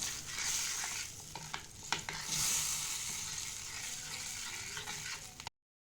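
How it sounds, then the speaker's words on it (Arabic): Lentils go into a pan of fried garlic and get stirred, giving a steady close sizzle with scraping stir strokes and a few sharp clicks. It runs alone for about five and a half seconds, then cuts to silence. "نضيف العدس عليها ونحركه"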